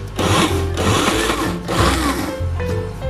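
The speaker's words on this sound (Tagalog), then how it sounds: "Now, i-blender ko na siya." A kitchen blender whirs loudly while mixing homemade garlic pepper mayonnaise from boiled eggs and water, running in a few steady bursts with short dips between them.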